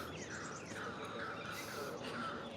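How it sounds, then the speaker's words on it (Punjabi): Birds chirp and call steadily during a morning walk past a plant nursery, a dense layer of overlapping tweets that stays fairly faint and distant against a low background hiss. "ਕਿੰਨੀਆਂ ਸੋਹਣੀਆਂ ਸੋਹਣੀਆਂ ਆਵਾਜ਼ਾਂ ਆ ਰਹੀਆਂ ਪੰਛੀਆਂ ਦੀਆਂ"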